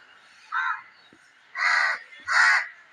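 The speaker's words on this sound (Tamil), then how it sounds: "மற்ற காக்காலாம் கத்திட்டே இருக்காங்க." Three harsh crow caws ring out, one shorter then two longer, clear and fairly close against quiet surroundings.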